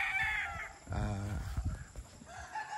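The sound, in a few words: chickens from Easy Game Farm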